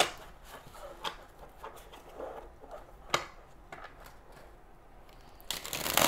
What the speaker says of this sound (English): So difficult to shuffle sometimes with my little hands.